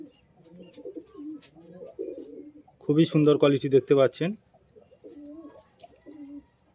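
Pigeons in a loft coo in a loud close burst, with someone talking before and after.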